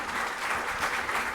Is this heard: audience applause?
yes